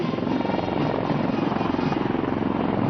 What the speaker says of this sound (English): On the skyline, helicopters of 603, 10 Independent Aviation Brigade are approaching the saluting lines.